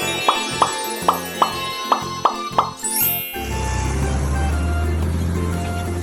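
A cartoon truck with its bed piled high with hay bales drives off: a run of cartoon plops and bumps, a rising whistle, then a steady, loud engine rumble that carries on to the end.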